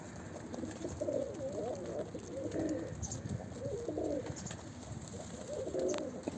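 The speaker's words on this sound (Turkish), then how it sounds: "Kuşlarımızı uçuruyoruz." Pigeons flown from a coop coo repeatedly in soft, rolling phrases close by, over a low outdoor rumble and faint wing or movement noises.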